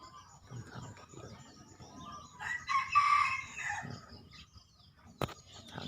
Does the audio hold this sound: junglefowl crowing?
yes